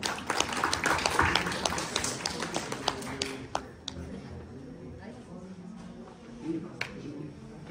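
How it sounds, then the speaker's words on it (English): A lecture audience greets an arriving professor with lively clapping, dense at first and then thinning into a few sharp, separate claps as the applause dies away. "Please give a huge round of applause for him"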